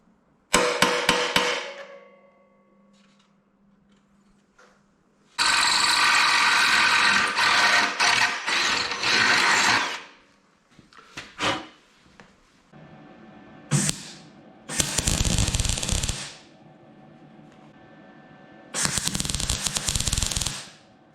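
Loud bursts of power-tool noise, drilling a hole through a metal motorcycle seat mount in several separate runs of a few seconds each, with quieter clicks and handling sounds between.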